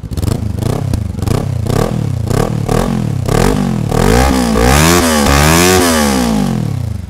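A Kawasaki Ninja 400 fitted with a GP1 muffler and silencer revs repeatedly, its loud engine note climbing and falling in quick blips before holding longer, higher revs near the end, close and continuous.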